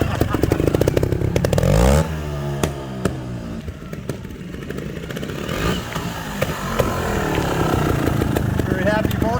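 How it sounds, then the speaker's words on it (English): A small Beta Racing Rev 3 trials motorcycle engine revs loudly and unevenly, with sharp throttle blips, some clattering and a voice speaking over it. "this is a world championship capable winning trials bike"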